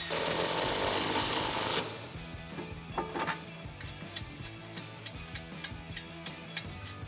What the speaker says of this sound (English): Now I can tighten up my sway bar end link bolt.